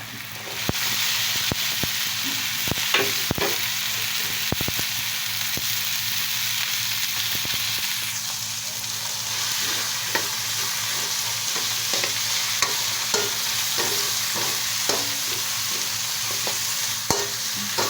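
Carrots and potatoes stir-fry in a hot pan for a vegetable lumpia filling, giving a steady, close sizzle throughout with frequent scraping clicks of a utensil against the pan and no talking.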